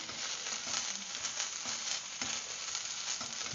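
Mushrooms frying in a pan, a steady close sizzle with soft crackles and a few light stirring bumps, no voices.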